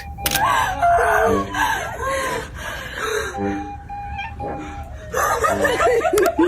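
A cat meows and yowls repeatedly, loud and close, with drawn-out wailing cries and short pauses between them.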